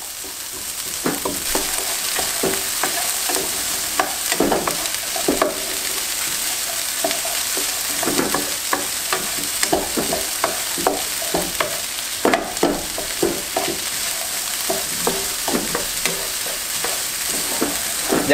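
Onion cooking in a dry pan with no oil while making Chinese-style fried rice, a continuous close sizzle with frequent spatula scrapes and taps throughout, steady and fairly loud, no voices.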